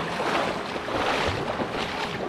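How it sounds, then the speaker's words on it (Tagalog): Deep, fast-rushing floodwater roars in a dense, continuous broadband wash with gusty wind buffeting the microphone, no voices heard. "Lalim, ragasa man ang tubig."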